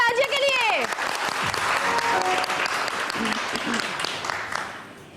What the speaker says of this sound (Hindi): बहुत सारी तालियां नाजिया के लिए